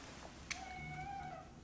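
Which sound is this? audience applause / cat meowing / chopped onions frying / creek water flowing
cat meowing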